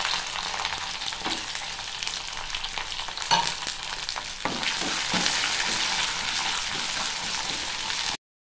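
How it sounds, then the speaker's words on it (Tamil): Crushed garlic and dried chillies frying in hot oil, a loud, dense crackling sizzle with occasional stirring scrapes and no talking. "பூண்டு வந்து தட்டி அதையும் சேர்த்துக்கிறேன்."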